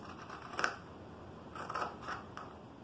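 Scissors snip through T-shirt fabric in a few short, crisp cuts: one near 0.6 seconds, then a cluster of quicker snips later. The sound is close and fairly quiet, with no talking.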